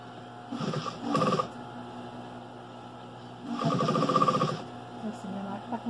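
An old sewing machine runs in two short bursts with a rough, odd mechanical rattle and hum, separated by a pause, with a steady low background hum throughout.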